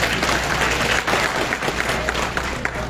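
Steady applause from a crowd at a birthday gathering for a political figure, dense and continuous throughout with faint voices mixed in.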